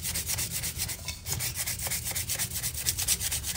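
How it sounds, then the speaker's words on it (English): Fine 220-grit sandpaper lightly rubs over a cured epoxy surface on a wine cup, a close, steady scratchy swishing made of rapid back-and-forth strokes that continue evenly throughout. "take some very fine sandpaper. This is 220, and I'm going to lightly sand the surface"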